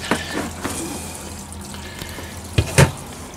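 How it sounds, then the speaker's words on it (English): Water running out through an opened valve from a newly installed travel trailer holding tank, a soft steady trickle and splash with a few louder drips and gurgles, close by with no talking. "Water's flowing."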